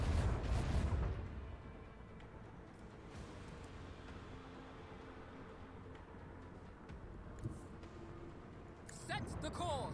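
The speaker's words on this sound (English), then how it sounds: "Macro cannons, volley." Macro cannons on a warship fire a volley in Warhammer 40k Rogue Trader, a loud booming burst at the start and another at the end, with low rumble between and a voice talking over it.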